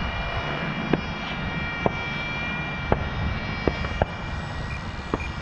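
An E-flite Draco RC airplane makes a steady, high motor whine as it passes slowly over a runway, with a few faint sharp ticks scattered throughout.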